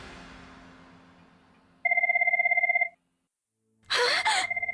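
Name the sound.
telephone ringing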